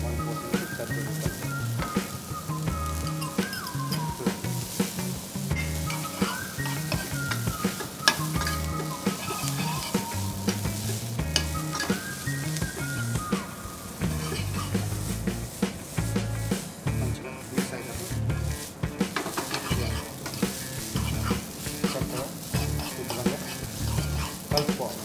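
Veg hakka noodles being stir-fried in a pan, with continuous sizzling and stirring scrapes running throughout, loud and close, alongside a steady musical background.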